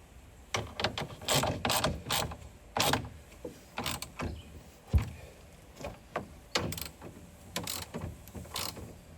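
Clamps on a BAKflip MX4 folding tonneau cover are ratcheted tight with sharp, close clicks in quick clusters, followed by short pauses and a heavier knock midway.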